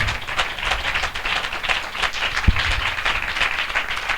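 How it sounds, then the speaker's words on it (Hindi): A church congregation gathered for a spiritual assembly breaks into steady, loud applause, dense hand clapping that holds evenly for about four seconds with one sharp thud partway through. "हम जोरदार ताली से उनका स्वागत करें"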